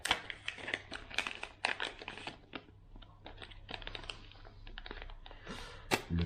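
Rapid crinkling and clicking of plastic packaging as a parcel from a Hobbytech NXT RR 2.1 RC car kit is torn open, busy close-up handling noise with sharp bursts throughout.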